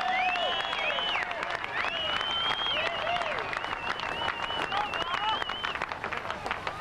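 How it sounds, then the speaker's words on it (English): A crowd at Queensland Raceway applauds and cheers Garth Tander's first V8 Supercars race win in 1999, steady distant clapping with whistles, under a voice speaking over it. "please put a big round of applause together for this man"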